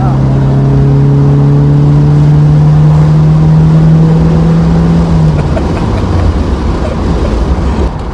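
Opel Calibra 2.0-litre coupé engine pulling hard in sport mode, a loud steady drone rising slowly in pitch for about five seconds before a gear change drops it lower, close and continuous throughout.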